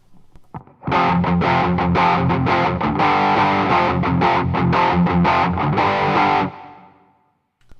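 An electric guitar through a Boss Overdrive/Distortion pedal set fully to overdrive plays a fast run of crunchy chords for several seconds, then cuts off and decays into quiet.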